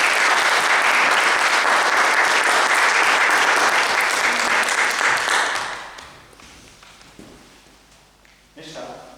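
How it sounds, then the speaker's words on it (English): An audience at a table topics speaking competition claps loudly and steadily for a contestant, the applause dying away after about six seconds into quieter room noise and a faint voice. "Please give a big round of applause to Nishtha Chug."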